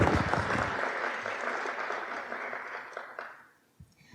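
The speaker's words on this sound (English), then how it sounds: "I want to give you all a round of applause and thank you for your help." Audience at a health care summit applauding the event planning group, a full round of clapping that starts loud and fades steadily, ending in a few scattered claps.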